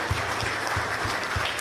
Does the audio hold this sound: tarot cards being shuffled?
no